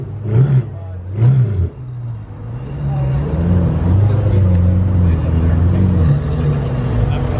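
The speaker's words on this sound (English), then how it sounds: "You got the 488 Spider. This one sounds pretty freaking good." A Ferrari 488 Spider engine revs twice in sharp, loud bursts, then settles into a sustained throaty rumble that swells and holds close by, with people talking nearby.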